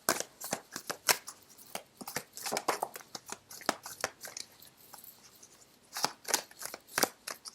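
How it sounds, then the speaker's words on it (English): Tarot cards riffled and shuffled close up in a steady run of crisp papery flicks and snaps, pausing midway before a final burst of quick card slaps as cards are drawn from the deck. "I'm going to pull out 3 more cards just to see what the Death card signifies"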